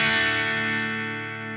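A single clean electric guitar chord rings out through a Fortin Nameless amp model on a Quad Cortex, bright and slightly scratchy, sustaining and slowly fading with no other sounds.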